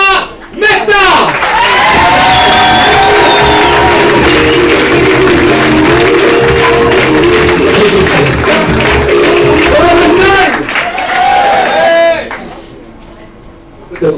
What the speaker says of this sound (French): faites un tonnerre d'applaudissements pour l'artiste qui va descendre l'escalier magique